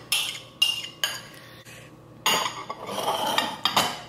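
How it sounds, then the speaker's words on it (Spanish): Chopped carrot and beet salad is stirred in a bowl, giving a few sharp clinks and scrapes of a utensil against the dish, close by and in short bursts with brief pauses. "Vamos a revolver nuestra zanahoria"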